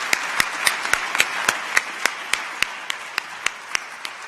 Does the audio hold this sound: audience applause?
yes